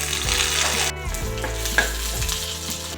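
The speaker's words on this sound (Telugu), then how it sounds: "చూడండి, పోపు వేగిపోయింది." Dried red chilies, about ten crushed garlic cloves and curry leaves sizzle in hot oil for a Telugu tempering, with a steady frying hiss, a sudden drop and flare as leaves go in, and a few spoon-stirring clinks.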